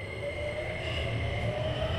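A train hums and rumbles steadily with a faint electrical whine, a low continuous drone and no talking.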